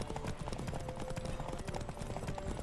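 Horse hooves gallop in a race in the video game The Witcher 3, a dense, rapid clip-clop drumming continuously under a steady game soundscape.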